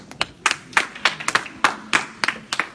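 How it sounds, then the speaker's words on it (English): A church congregation claps in a loose rhythm, sharp distinct hand claps, around ten of them spread over a few seconds, fairly near and clear with no talk over them. "If you are clapping, clap well for Jesus."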